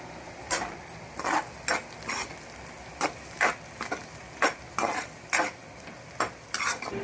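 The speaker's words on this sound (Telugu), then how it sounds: "మునక్కాయ టమాటా పచ్చిమిరకాయలు అయితే బాగా అయితే ఫ్రై అయిపోయినాయి." Drumsticks, tomato and green chillies fry in a pan for a fish curry. A steady sizzle runs underneath while a spoon scrapes and stirs at a regular rhythm, roughly every half second, with no talking.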